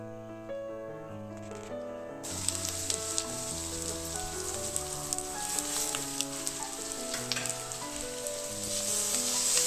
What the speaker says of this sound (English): Add your onions and saute them for about 2 minutes